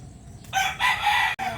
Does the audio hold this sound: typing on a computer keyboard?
no